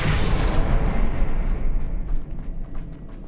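A single deep blast from the Bombarda spell in Hogwarts Legacy, loud and close at first, then rumbling and fading out over a few seconds.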